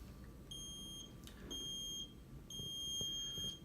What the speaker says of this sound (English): At 3 seconds, you'll start to hear a series of beeps.